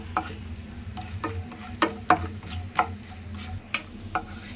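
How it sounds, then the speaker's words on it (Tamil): Cashews, almonds and pistachios frying lightly in ghee for apple halwa, a soft steady sizzle broken by sharp clicks of a spoon stirring against the pan, close and without talk. "முந்திரி பாதாம் பிஸ்தா போட்டு வச்சுருக்கேன் ஃப்ரெண்ட்ஸ் இது அப்படியே நம்ம கொஞ்சம் இது பண்ணிக்கலாம் ஃப்ரை பண்ணிக்கலாம் லைட்டாக ஃப்ரை பண்ணிக்கோங்களேன்"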